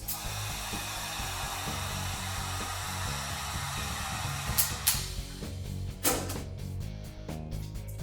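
A heat gun blows a steady, broadband airflow hiss while heating vinyl wrap during a Byrna wrap install, holding constant throughout with a few brief sharper bursts near the end.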